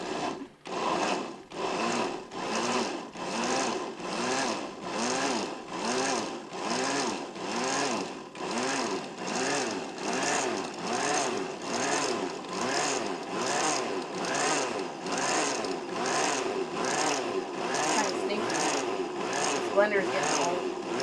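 An aging blender whirs in rapid, pulsing bursts for about twenty seconds, its motor cycling with a rough, rhythmic grind, loud and close throughout.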